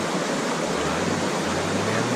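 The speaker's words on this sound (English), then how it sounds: "This is the rapids going in from Stuart Lake to the Dahlgren River." Whitewater rapids between Stuart Lake and the Dahlgren River in the Boundary Waters wilderness rush in a steady, loud, unbroken roar of churning water, close by and with no voices.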